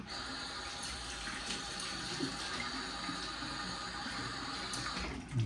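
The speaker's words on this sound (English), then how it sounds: "I'm gonna rinse the face off here" Tap water running steadily into a bathroom sink while a face is rinsed after shaving, a close continuous splashing rush with faint handling noises.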